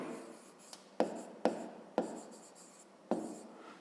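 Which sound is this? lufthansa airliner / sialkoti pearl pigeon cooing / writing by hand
writing by hand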